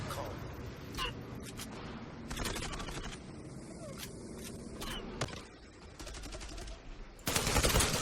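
Bursts of gunfire from the online shooter game Zula, set on ship and parking-lot maps, crackle in short volleys beneath steady voice chat, ending in a loud sustained burst.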